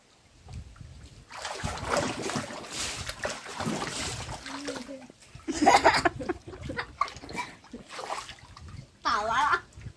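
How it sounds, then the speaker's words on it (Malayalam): Splashing in a swimming pool as someone goes under, bursts of churning water rising and falling over several seconds, close by, with a voice speaking between the splashes. "ഞാൻ മുങ്ങട്ടെ."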